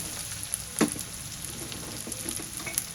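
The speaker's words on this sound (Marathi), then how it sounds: "कांदा छान परतून झाला बघा" Onion and vegetables frying in hot tempering oil for veg fried rice, a steady soft sizzle with a few clicks of a spoon stirring the pan, close and fairly quiet, no voices.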